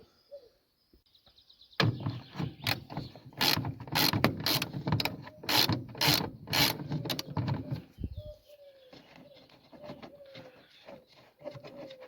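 Screws are worked loose from a car's air filter housing, with a close, rapid run of sharp mechanical clicks and ratcheting that stops abruptly, followed by faint, scattered sounds.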